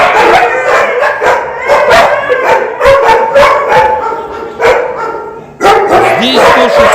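At a city dog shelter in Yakutsk housing 168 dogs, many dogs bark, yip and howl at once in a loud, overlapping chorus close by, with a few whimpers among them.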